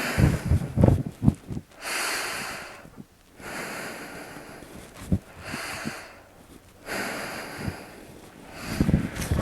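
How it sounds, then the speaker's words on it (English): Slow, deep breaths during a crawling-position exercise, each inhale and exhale a long airy rush, heard up close and alone with a steady, calm rhythm across several cycles. "you do your diaphragmatic breathing"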